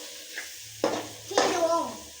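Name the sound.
sautéing garam masala and vegetables for brinjal curry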